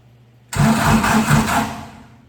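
An old car engine cranks with the starter and catches, bursting into a loud rough running roar that settles and fades slightly toward the end.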